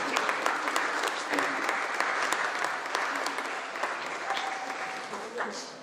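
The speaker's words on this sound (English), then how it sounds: "Please give her a round of applause." Sustained applause from an audience at a festival opening ceremony, steady dense clapping that fills the whole stretch at moderate loudness, with no one talking over it.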